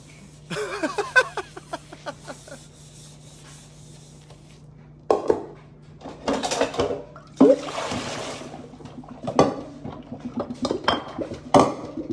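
Dishes being washed at a sink, with scattered clinks and knocks of plates and cutlery and bursts of running water, loud up close with quiet gaps between.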